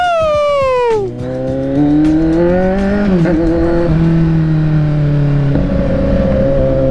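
A Kawasaki Z900 SE motorcycle engine revs up loudly, its pitch sliding and climbing through several surges, close and continuous with no talking.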